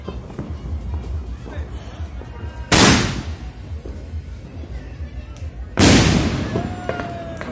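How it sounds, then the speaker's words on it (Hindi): Two sharp sky shot firework bursts at a New Year celebration, each a loud crack with a fading crackling tail, a few seconds apart, over background chatter and outdoor noise. "और इसको हम लोग सेलिब्रेट कर रहे हैं स्काई शॉट के साथ, स्काई शॉट के साथ।"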